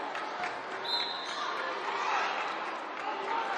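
A steady murmur of spectators fills a high school basketball gym at an early-season game, with sneaker squeaks and ball bounces poking through a continuous crowd wash and voices mixed in.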